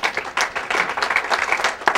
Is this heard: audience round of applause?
yes